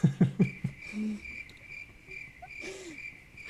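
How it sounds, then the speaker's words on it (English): A cricket chirping sound effect, played as a joke, gives a steady, thin chirping trill through a quiet pause, with a few soft thumps at the start. "Hashtag crickets."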